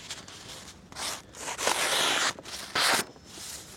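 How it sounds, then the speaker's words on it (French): A Tramontina machete slicing through paper, giving several quick, dry tearing rasps in short bursts, close and fairly loud with brief pauses between cuts. "la machette c'est pas fait pour couper du papier"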